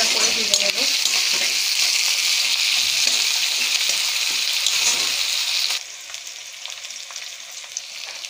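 Chicken pieces frying lightly in a hot pan for chili chicken, a loud, dense sizzle close up that runs steadily before dropping to a quieter hiss near the end.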